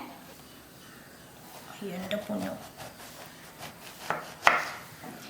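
A knife cuts through a washed guava on a board, giving a few soft scraping slices and then two sharper chopping taps, quiet and close, with faint talking under it.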